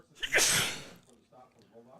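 A single loud, sharp sneeze bursts out close to the microphone in a high school football broadcast booth, followed by quieter voices talking.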